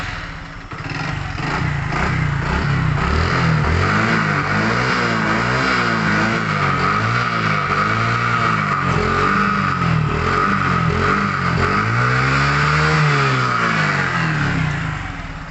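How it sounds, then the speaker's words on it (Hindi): A Hero Glamour motorcycle with a white-smoke and piston-noise problem starts and idles loudly up close, its engine steady with repeated rising and falling revs throughout. "मैं बाइक को स्टार्ट करके डायरेक्ट आपको इसका धुआं दिखा देता हूँ"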